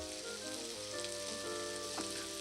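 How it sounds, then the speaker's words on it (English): Sausage frying in a pan gives a steady, close, crackling sizzle that holds evenly throughout, with faint tonal notes in the background. "that's the way we fry the sausage"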